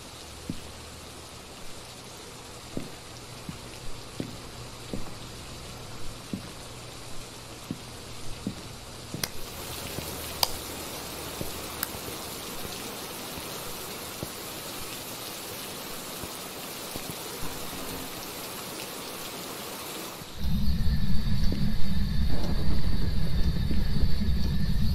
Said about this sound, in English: Oh, that's not freezing breath, that's rain, okay.